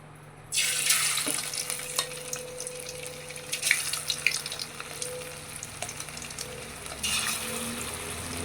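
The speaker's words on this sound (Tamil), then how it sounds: "பொரிச்சாச்சு, 65 ரெடி ஆகிடுச்சு." Chicken 65 deep-frying in coconut oil in a pan, a loud steady bubbling sizzle that starts abruptly and continues close up, with occasional spoon clinks and no talk.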